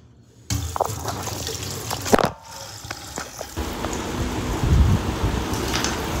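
Dishes washed by hand under a running kitchen tap, with water splashing steadily after a silent start, a few clinks and scrapes of crockery, and rushing flow growing fuller toward the end.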